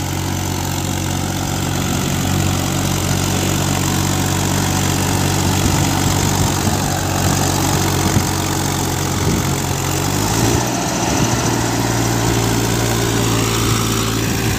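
A Massey Ferguson 1035 40HP tractor engine runs steadily and loudly nearby, a continuous low diesel drone that shifts briefly in pitch as the gear is changed without the clutch.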